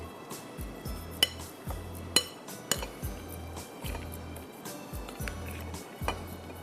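Tandoori masala is mixed in a bowl, heard as a rhythmic series of soft squishy strokes with occasional sharper clinks of a spoon against the dish, close and moderately quiet, with no talking.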